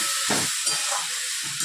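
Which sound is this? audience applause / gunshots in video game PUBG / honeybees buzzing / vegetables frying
vegetables frying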